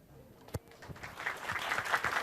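An audience at a lecture breaks into applause after a single sharp clap, the clapping building from scattered hits into a dense, steady patter.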